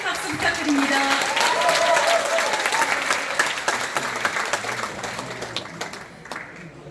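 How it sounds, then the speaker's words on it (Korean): A packed hall of party members and veterans applauds after a speech by the National Assembly Speaker, loud at first and then thinning into scattered claps as it fades. "귀한 말씀 해주신 이주영 국회의장님께 다시 한번 큰 박수 부탁드립니다"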